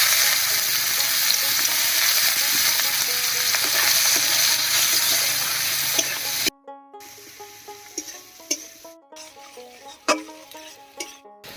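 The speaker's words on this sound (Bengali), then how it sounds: "পেঁয়াজটা ভাজা ভাজা হয়ে গেছে" Chopped onion sizzles loudly in hot mustard oil for about six seconds, a dense steady frying hiss, then drops to a quieter intermittent crackle with scattered spatters and clicks.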